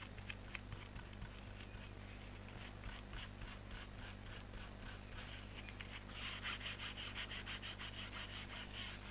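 Paper is cut close up for a pop-up card with hanging hearts, giving faint, steady rhythmic scraping strokes that grow a little brisker toward the end, with no talking.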